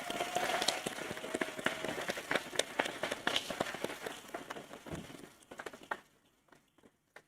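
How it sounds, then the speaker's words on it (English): Steady applause from an awards ceremony crowd, dense clapping that fades out toward the end. "Can they please all have another round of applause?"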